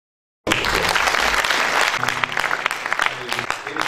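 A church congregation bursts into applause after a moment of silence, a dense, loud clapping that holds steady and then thins slightly, with some voices mixed in.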